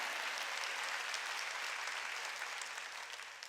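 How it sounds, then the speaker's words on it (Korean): Congregation applause at a church Sunday worship service, a dense sustained wash of clapping from many hands that slowly fades toward the end, with a low steady hum underneath. "빨리 박수로 하나 할게요."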